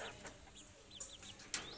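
Chickens cluck softly at close range, with a few sharper squawks and chirps scattered through otherwise quiet surroundings.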